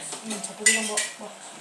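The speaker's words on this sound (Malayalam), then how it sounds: "പാത്രങ്ങളൊക്കെ പറക്കിക്കൊണ്ട് പോവുക." Dishes and pots being gathered up in a home kitchen, giving a few scattered clinks and clatters of metal and crockery close by, with louder knocks around the middle, over a quiet room.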